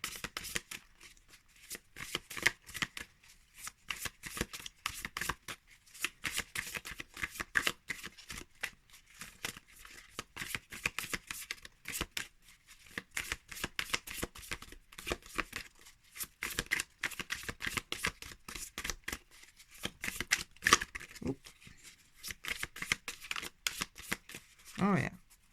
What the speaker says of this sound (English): trying shuffling from the side